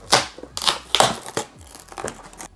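Packaging crinkles and crumples as a Hello Kitty Pyrex glass storage bowl is unwrapped, several loud close-up rustles and crunches in uneven bursts, with no talking.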